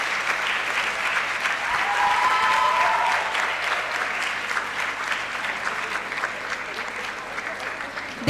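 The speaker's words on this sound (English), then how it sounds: "Big round of applause." Audience applause at a law college moot court valedictory function as trial advocacy trophy winners are announced; steady, dense clapping fills the hall for about eight seconds, with a brief tonal squeal near the start.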